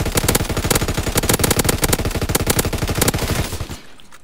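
Sustained machine gun fire in Call of Duty WWII: rapid, loud bursts of closely spaced shots rattle for about three and a half seconds, then stop abruptly.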